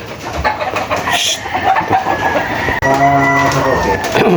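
Gamecock roosters cluck and call close by in a yard, several short bird sounds scattered over a few seconds with a sustained crow-like call toward the end and faint voices in the background.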